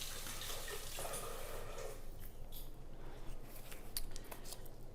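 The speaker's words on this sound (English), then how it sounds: "Let me rinse my hand off." Tap water runs into a kitchen sink as a hand is rinsed, a soft steady hiss and splash that tapers off into brief faint clinks and handling noises.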